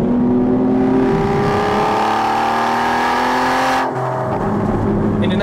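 An Aston Martin V12 Vantage S, held in second gear, is floored out of a corner. The engine note climbs loud and close in a rising harmonic whine, then drops sharply near the end as the revs fall away.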